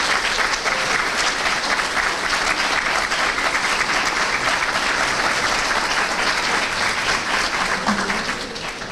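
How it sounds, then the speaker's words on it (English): Dense, steady audience applause at a community event, many hands clapping evenly throughout before tapering slightly at the very end. "They deserve a real good round of applause."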